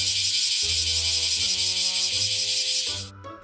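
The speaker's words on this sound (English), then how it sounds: "Cicadas. Those annoyingly loud bugs that show up every year to haunt your nightmares with sounds like these." Loud, continuous cicada buzzing, a dense high-pitched drone that holds steady for about three seconds before cutting off, with a low repeating tonal pulse underneath.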